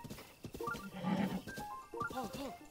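A horse in the video game Zelda: Breath of the Wild snorts and whinnies in short tonal bursts, mixed with game sounds and faint background music, with a voice partly overlapping.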